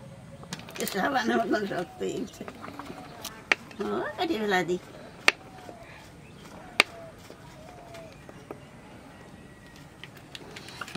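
Potatoes being chopped into small pieces on a board for a paneer biryani: a few sharp, isolated knife thuds spaced seconds apart, with someone talking in short bursts between them.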